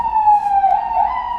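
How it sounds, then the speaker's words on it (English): An ambulance siren wails on a busy New York City street, a brief loud steady tone with a slight pitch shift as it passes, close by and alone. "The ambulance is right there"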